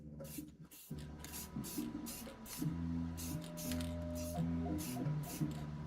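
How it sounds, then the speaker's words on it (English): A nearly empty rattle can of clear coat sprays in short sputtering bursts over comic-figure paint, hissing in uneven pulses close by under a low background hum. "If I get just enough out of this rattle can to give it a little clear coat real quick."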